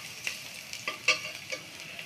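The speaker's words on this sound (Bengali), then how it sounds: "রসুন কুচি দিয়ে একটু ভালো করে ভেজে নিব।" Chopped garlic fries in oil for a Bengali leafy-greens dish, a short, quiet crackle of small pops and stirring clicks.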